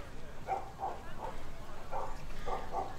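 Several dogs at a gathering give a series of short, fairly faint barks and yips in an irregular rhythm over background noise and murmuring.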